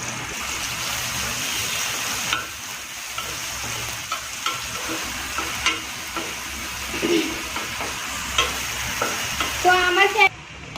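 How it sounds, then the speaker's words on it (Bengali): Sliced onions fry steadily in hot oil for crispy beresta, a continuous close sizzle with occasional stirring scrapes and small bursts of spatter, no talking. "তো এই যে পেঁয়াজ বেরেস্তা করে নিব এখানে।"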